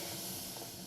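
Steam hisses in the video game Daria's Inferno, one brief, steady broadband rush with no other sound.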